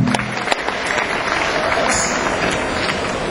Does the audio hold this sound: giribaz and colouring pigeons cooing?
no